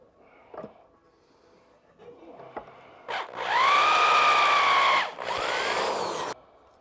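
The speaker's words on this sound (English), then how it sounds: "so I'll drill that hole next" A power drill bores a hole. A few light knocks and handling sounds come first, then a loud whining spin of about two seconds, a brief gap, and a second shorter burst before it stops.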